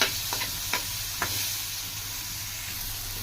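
Green chillies and garlic cloves fry gently in a pan with a soft, continuous sizzle, and a few light clicks from stirring come early on.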